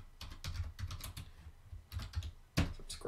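Close, quiet typing on a computer keyboard comes in a few quick bursts of key clicks separated by a short pause.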